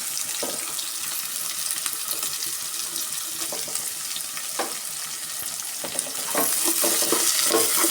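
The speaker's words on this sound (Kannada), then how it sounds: "2 ಈರುಳ್ಳಿನ ಈ ಥರ ಕಟ್ ಮಾಡಿ ಸೇರಿಸ್ಕೊತಾ ಇದ್ದೀನಿ. ಚೆನ್ನಾಗಿ ಫ್ರೈ ಮಾಡ್ಕೊಬೇಕು." Sliced onions fry in a pan as they are stirred, a loud steady sizzle with scraping and clinking from the spatula, the hiss growing stronger near the end.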